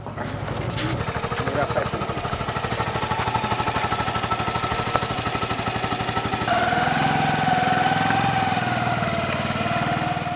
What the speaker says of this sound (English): the traditional birth attendant accompanies the woman on the motorbike